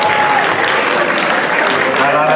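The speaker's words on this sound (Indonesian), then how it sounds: "Mari kita beri tepuk tangan bersama-sama." A crowd claps together in sustained, loud applause, a dense even wash of many hands close by with a faint voice underneath.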